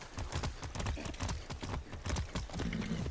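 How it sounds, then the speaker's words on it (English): Horse hooves clip-clop in a quick, steady rhythm while riding in the Far Cry 6 video game, loud and close with a dense, continuous game backdrop. "just riding a horse"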